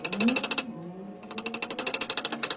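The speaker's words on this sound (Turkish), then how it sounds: "Hiza almak için çivi, 3 tane çivi koymuş, üstüne çakıyor." Nails being hammered to join two wooden boards, heard as a quick run of sharp, regular knocks, briefly paused and then resuming in a steady rapid rhythm, close and fairly loud.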